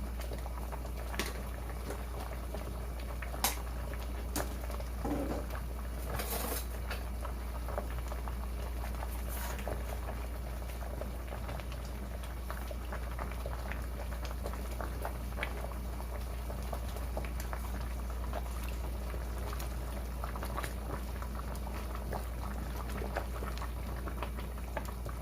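A pot of Korean-seasoned food boils steadily, giving a continuous soft bubbling and patter with occasional small pops under a low steady hum, no voices present.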